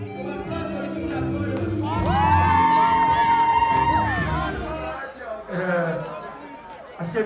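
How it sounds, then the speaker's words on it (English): A crowd at a corporate anniversary celebration cheers and whoops loudly, with a drawn-out high shout rising over the noise and chatter, then the cheering fades while voices carry on. "Give me a round of applause for the people that"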